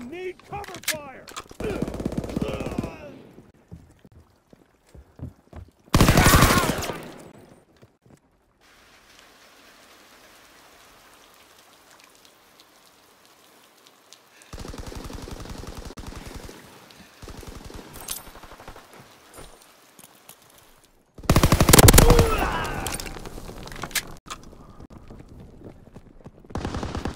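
Gunfire in Call of Duty: WWII comes in several loud, close bursts of shots, separated by long quieter stretches of faint background noise.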